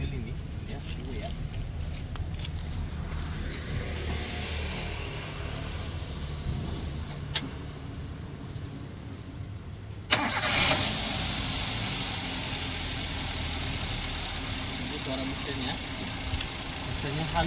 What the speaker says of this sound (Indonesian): Kita akan dengari suara mesin mobil ini, ya.